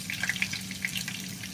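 Potato patties fry in hot oil with garlic and onion, giving a steady, close crackling sizzle with scattered pops throughout.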